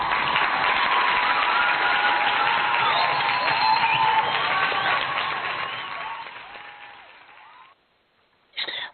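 A studio audience applauds steadily at the opening of a talk show, a dense wash of clapping that fades out toward the end before a brief burst returns.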